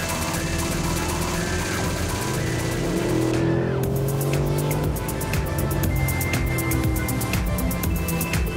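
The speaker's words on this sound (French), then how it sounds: "c'est ce qu'on entend là, c'est ce moteur fabuleux, 570 chevaux" A Mercedes-AMG 6.3-litre naturally aspirated V8 of 570 horsepower, in sport or manual mode, revs loudly and close, rising and falling with rapid throttle blips and a crackling exhaust over a steady deep rumble, with no talk.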